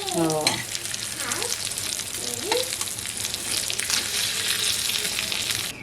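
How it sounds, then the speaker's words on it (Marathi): Surmai kingfish fries in a pan with a continuous close crackling sizzle, and a few brief tonal whistles or squeaks near the start rise over the frying. "मस्त पहिला राऊंड तर मच्छी फ्राय झालेली आहे"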